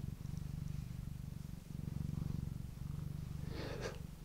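A cat being stroked around the neck purrs close and steady, a low rhythmic rumble with brief pauses between breaths, plus a faint rustle near the end.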